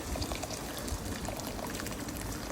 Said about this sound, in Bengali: তো বন্ধুরা, গরম জল দিয়ে দিচ্ছি